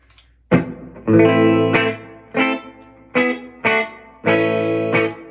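Clean electric guitar chords struck one after another, some ringing out and some cut short, each trailing off in a wash of reverb.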